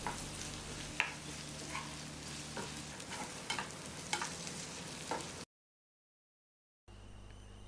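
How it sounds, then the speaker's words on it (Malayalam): Crushed ginger and garlic fry in a pan, sizzling steadily with light stirring taps for about five seconds before cutting to silence and a quieter hum. "ഇഞ്ചിയും വെളുത്തുള്ളിയും കൂടി ചേർത്തിട്ട് എല്ലാം കൂടെ"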